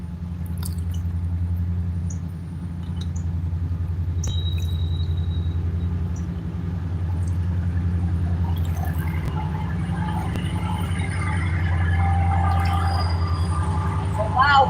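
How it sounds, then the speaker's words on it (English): A loud train passes by a lake during a bass-fishing outing, heard as a heavy, continuous low rumble that drones steadily throughout with faint higher clanks and squeals near the end. "Train, folks. Get your earbuds out fast."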